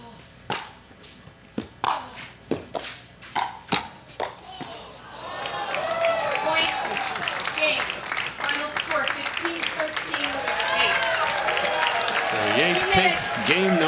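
Spectators at the 2023 US Open Pickleball Championships pro singles match clap after a passing shot, with sharp paddle-ball pops and footsteps first, then sustained crowd applause swelling under a commentator's voice.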